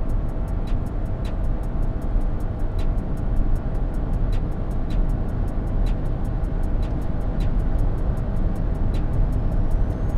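Inside a Toyota Corolla Cross, the engine holds a steady low droning roar without any gear change, with faint regular ticking above it.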